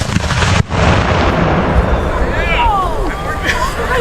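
A Civil War artillery cannon fires a shell at a reenactment, a loud boom near the start followed by a long rumbling tail while a crowd murmurs and voices carry in the open air.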